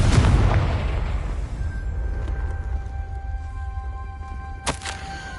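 A Confringo fire spell from the game Hogwarts Legacy blasts with a loud, deep boom that decays over a few seconds into rumbling debris and faint tones, with a sharp crack near the end.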